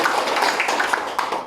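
A classroom of students gives a barangay clap, a short patterned burst of rhythmic group clapping heard close and lively, with a few voices mixed in.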